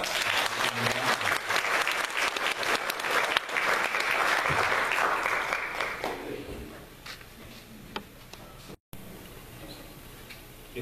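A church congregation at a Korean ordination service claps together in a strong, steady burst that fades out after about six seconds, leaving a quiet hall with a few faint ticks and stray sounds.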